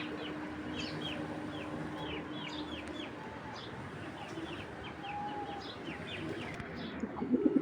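Pigeons coo softly and continuously in a loft of racing birds, with faint chirps from other birds overhead, plus a few louder knocks close by at the end.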